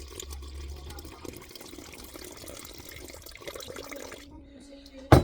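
Water is poured into a bowl set on a kitchen scale while measuring 675 grams for sourdough bread dough, a steady, moderately close trickle and splash that runs for several seconds before ending in a short, louder knock.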